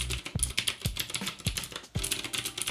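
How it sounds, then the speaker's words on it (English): Typing on a mechanical keyboard with Cherry MX Blue switches, a quick run of sharp, clicky keystrokes in an uneven rhythm, close and distinct with no voices. "Cherry MX Blue switches, so it's the most clicky one"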